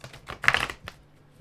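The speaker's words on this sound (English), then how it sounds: "I'm going to go ahead and shuffle again." A Light Seers tarot card deck is shuffled by hand: a short, quiet burst of crisp card clicks and riffles with no voices.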